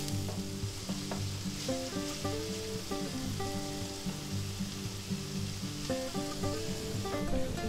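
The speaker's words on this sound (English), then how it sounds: "Okay, stir them around a little. Cook them up a little. Get them onions a little more tender and soft." Onions stirred around in a hot pan fry with a dense, continuous sizzle, dotted with scraping strokes of stirring all the way through.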